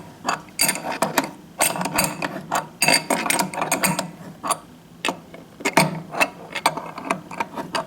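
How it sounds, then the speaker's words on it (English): A ratchet tightens a hex nut on a motor sleeve for an Ariens Snow Rover track drive, giving rapid bursts of close, crisp clicking in irregular strokes with short pauses between. "Tighten the hex nut."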